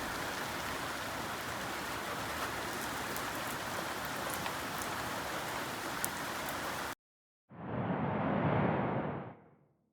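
Rain falling on a weatherproof Sonos speaker left outdoors: a steady, dense hiss of rain for several seconds, then a brief gap and a short swelling burst of rushing water that fades out.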